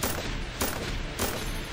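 Gunfire in the mobile game Angry Granny, a dense rattling fusillade of rapid shots in several bursts, moderately quiet and continuous, with no voices.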